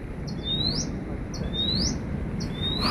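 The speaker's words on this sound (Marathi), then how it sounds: "मस्त वेगवेगळ्या पक्ष्यांचे आवाज ऐकू येत ते" Several birds singing near a dam in the monsoon Konkan countryside, with repeated rising whistled calls at steady intervals over a constant wash of background noise.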